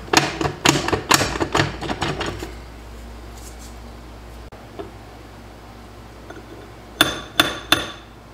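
Hammer tapping to bump a part loose on a trashed TH 350 automatic transmission, a quick series of sharp metallic knocks, a quiet pause, then three more close, crisp taps.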